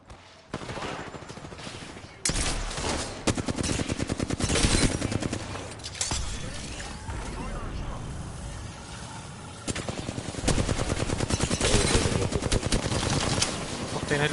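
Gunfire in a video game shooter: loud, rapid bursts of automatic fire and single shots crackle almost without pause, with brief gaps between volleys.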